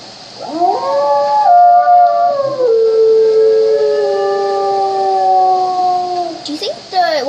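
Howling wolf pup in the video game WolfQuest, a long wavering tonal howl rising then sliding down over several seconds, loud and close, ending in short yips.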